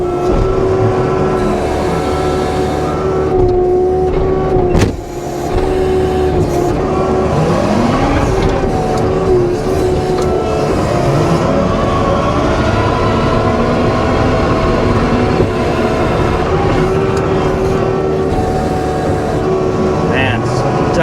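A new Kioti TL750 compact track loader runs with a loud, steady diesel drone and hydraulic whine, engine pitch rising and shifting as it is driven, with a voice talking over it.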